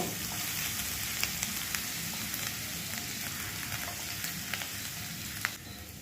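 Chopped garlic and ginger fry in oil over a low flame with a close, steady sizzle and light crackle, broken by a few soft taps and stirs.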